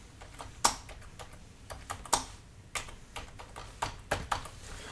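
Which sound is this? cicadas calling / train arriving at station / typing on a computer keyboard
typing on a computer keyboard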